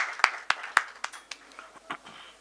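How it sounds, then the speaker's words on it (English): A few scattered claps from a seminar audience at an Arcesium India talk on reengineering skills, several sharp, fairly distinct hand claps at first, then thinning into sparse, fading claps with no one speaking. "Please give yourselves a big round of applause."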